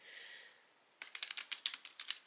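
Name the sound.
riffle shuffling a small deck of playing cards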